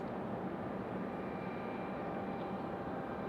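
American Airlines 1173 jet departing Raleigh Durham airport, a steady broadband engine roar heard from a distance, faint and unbroken with no talking.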